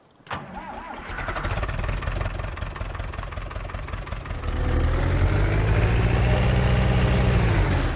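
An Ursus tractor engine in Farming Simulator 19 starts with a sharp crank, then settles into a steady, loud diesel idle that deepens and thickens partway through, with no talking.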